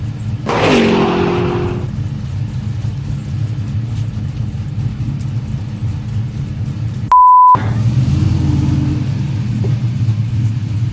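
LS-swapped OBS Chevy truck engine rumbling and revving as it drives up ramps, loud low idle with a rev near the start and a short beep midway.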